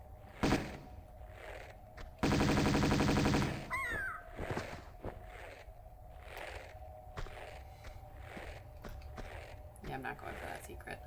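Crows caw repeatedly in Tomb Raider II at the Temple of Xi'an, harsh calls spaced across the scene alongside footsteps and a loud burst of rapid gunfire early on.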